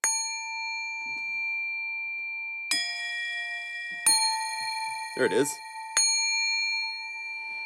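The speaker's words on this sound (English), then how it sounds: "I also sampled these metal meditation bells." Metal meditation bells struck several times, each clear ringing strike sustaining with long shimmering overtones, close and fairly loud, with a brief voice speaking between the strikes.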